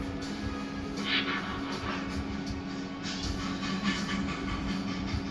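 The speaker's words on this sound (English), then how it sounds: "And he turns into a train." Rolling train noise from the Transformers character Astrotrain after transforming, a steady rumble with a sustained tone and faint intermittent clatter, fairly quiet throughout.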